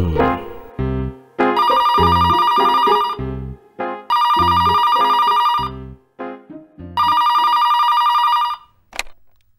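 A telephone rings loudly and close in three long, electronic trilling bursts separated by short gaps.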